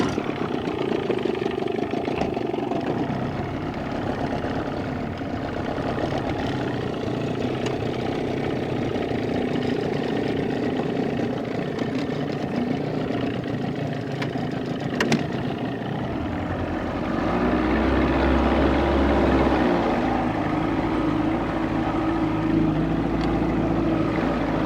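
A 1990 Johnson 20 hp outboard motor fitted with an 11 pitch prop runs steadily for the whole stretch, a loud close droning buzz that deepens and swells near the end as the throttle opens.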